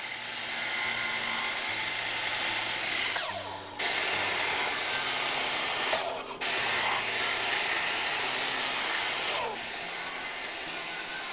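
A Makita miter saw cuts walnut with a loud, close whirring roar, briefly dropping off a few times between cuts before spinning back up.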